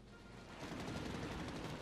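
Massive explosion and gunfire in a turn-based war game set in the Siege of Tobruk: a dense, continuous roar of rapid crackling shots and blasts, loud and unbroken throughout.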